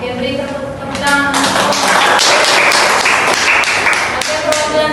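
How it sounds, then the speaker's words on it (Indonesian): Classroom of students clapping hands during a cooperative-learning lesson simulation, a loud burst of scattered claps swelling then thinning, following a woman's brief spoken line. "Oke, beri tepuk tangan."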